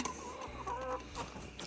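Backyard chickens clucking close by, several short overlapping clucks and a drawn-out call in the middle, with no talk over them.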